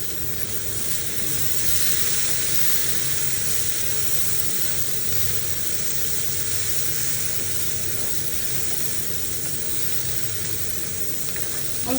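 A pan of curry sizzles steadily just after tomatoes are added, a continuous loud frying hiss with no pause or voices.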